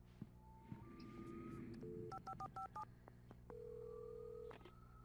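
Telephone being dialed in Alan Wake 2: a rapid run of distinct keypad tones, several short beeps in quick succession, then a longer steady tone, all fairly quiet against a low background hum.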